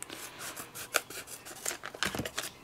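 A die-cutting machine runs card backed with a piece of craft foam through its rollers, giving a quiet stretch of repeated scraping, crunching strokes with no talking.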